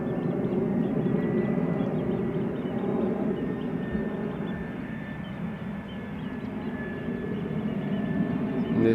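A 14-year-old Airbus A319 airliner at Amsterdam Schiphol Airport makes a steady, broad jet roar with a faint high whine running through it, holding at a constant level for several seconds with no speech.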